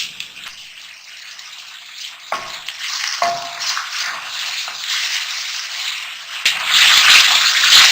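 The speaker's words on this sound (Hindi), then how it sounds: "साथ में इसके अंदर जो मेरी प्याज थी वो डाल दूंगी और इसे हल्का सा मैं सॉफ्ट करूंगी।" Onions sizzling and frying in hot ghee in a karahi, a steady close crackle with occasional stirring scrapes, growing louder and more intense toward the end.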